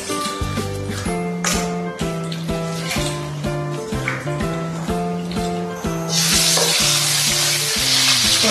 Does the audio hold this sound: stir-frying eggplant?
yes